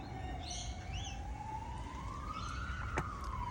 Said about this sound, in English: That sounds rather close, that siren.